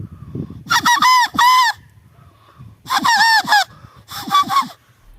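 A rooster's crow imitated by blowing on a leaf, sounding three times as loud, close, honking wavering calls with short pauses between them, alone with no talk.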